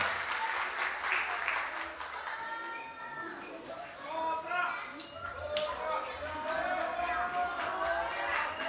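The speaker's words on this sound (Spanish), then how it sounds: "¡Fuerte el aplauso, fuerte el aplauso!" An audience at a sweet sixteen party applauds. The clapping is sustained and fairly close, with a voice talking over it and children's voices mixed in.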